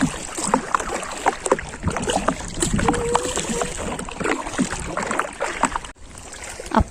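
Small rowboat being paddled on open water in Sri Lanka, with irregular close splashes and knocks of the oars over light wind noise, and no clear talk.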